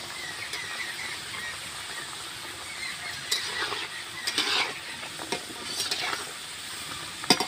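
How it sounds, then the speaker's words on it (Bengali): Balushahi sweets frying in hot white oil, a steady broadband sizzle and bubbling throughout with occasional louder crackles and stirring clicks, close and alone with no talk. "তেলটা গরম হয়ে গেছে, এবার বালু শাইগুলো ভেজে নেব।"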